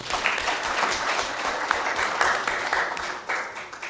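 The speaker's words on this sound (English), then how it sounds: "can we have another round of applause for the Doc?" Conference audience giving a round of applause for a speaker, a dense, steady wash of many hands clapping at a moderate distance.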